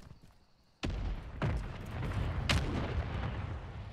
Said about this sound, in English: The other one mortar striked me.